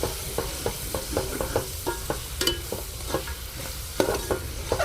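Coriander powder is worked into a sizzling mutton masala for gongura mutton dum biryani, with a spoon scraping the pan in quick, steady strokes over a constant background fry.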